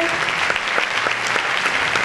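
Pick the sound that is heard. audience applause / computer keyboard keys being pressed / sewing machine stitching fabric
audience applause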